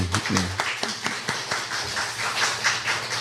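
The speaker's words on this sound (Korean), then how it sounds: "그래서 모든 아버님들께 박수를 드리겠습니다" Scattered, uneven hand claps from a church congregation during a Sunday worship service, honoring fathers on Father's Day. The claps come as sharp separate strikes with a brief voice near the start.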